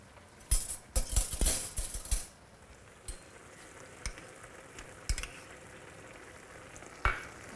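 Something sizzles in a pan as two tablespoons of whole-grain mustard are stirred in, a spoon scraping and clinking against it, with a cluster of busy stirring strokes early, then occasional taps.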